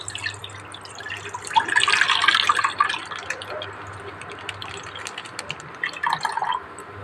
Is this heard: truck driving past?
no